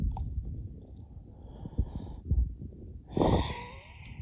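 A few harsh, raspy coughs from an old mule deer buck in Nevada, in irregular bursts against a quiet outdoor background, the last one the loudest.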